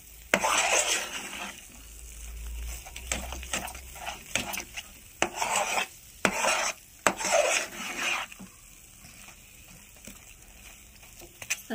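A spoon or ladle stirs a thick mithai sweet mixture in a pan, making repeated scraping and rubbing strokes in uneven bursts with short pauses, fairly close and with no talking.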